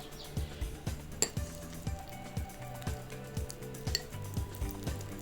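A spoon stirs a banana and neem juice face pack in a bowl with a steady rhythm of soft repeated scraping knocks, close but quiet.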